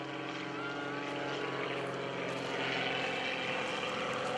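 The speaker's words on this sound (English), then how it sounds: "Lots of horsepower, not a whole lot of airspeed there. His engine working hard." Propeller aerobatic airplane engine at the 2013 Greenwood Lake Airshow, working hard at high power and low airspeed during vertical maneuvers; a loud, steady droning roar with a slight swell in the second half.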